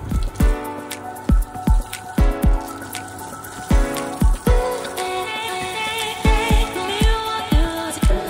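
Water from a motor pump splashes over a motorbike being washed, with an irregular run of loud, close slaps and drips over a constant watery hiss, and no talking.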